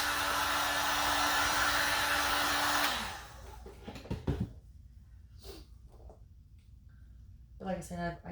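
A hair dryer or heat gun blows steadily and loudly to heat an acrylic paint pour, a broad rushing whoosh with a motor tone that winds down and stops, followed by breathing and a person talking.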